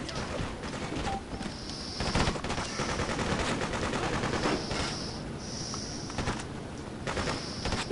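Rapid automatic gunfire in the video game Freedom Fighters, dense bursts of near shots filling the whole stretch with little pause, loud and continuous.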